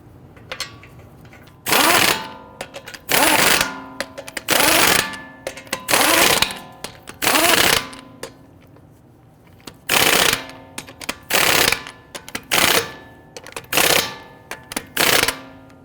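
An impact tool snugs down the lug nuts on a 2011–2023 Dodge Charger wheel in repeated loud mechanical bursts, each lasting about a second, in two separate runs with short pauses between them.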